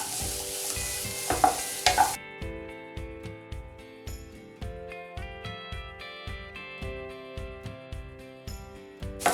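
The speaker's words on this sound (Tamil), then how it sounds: "எல்லாத்தையும் சேர்த்து 5 நிமிஷம் வதக்கினா போதும்." Onions sauté in a pan for a sweet corn mushroom soup, giving a steady soft sizzle broken by a regular series of scraping stirs from a utensil, close and fairly quiet.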